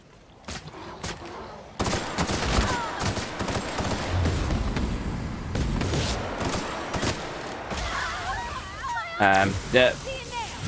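Gunfire from weapons in The Outer Worlds: Peril on Gorgon, with sharp bursts and rapid shots, some booming, then denser clustered firing near the end, mixed with game effects and voice chatter.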